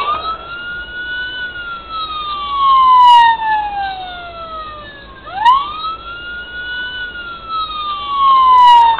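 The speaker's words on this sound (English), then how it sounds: "Then we hit it again, and get the siren with all the patterns." A toy police car siren wails loudly and close, cycling through rising and falling tones, then switching to faster yelping patterns with no talking.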